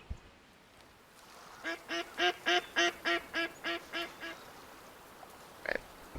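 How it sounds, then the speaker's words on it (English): Duck quacking in a video game: a run of about nine evenly spaced, distinct quacks rising then fading, followed by one lone quack after a pause, over faint ambient background. "We finally got ourselves our first potential duck."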